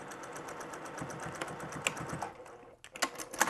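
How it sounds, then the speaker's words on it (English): A sewing machine stitching a finished edge down over a fabric seam allowance on a reusable grocery bag handle gives a rapid, steady mechanical chatter at close range, pausing briefly near the end before resuming in short bursts. "I'm going to come right back in to the machine and I'm going to sew the finished edge right down on top of that seam allowance"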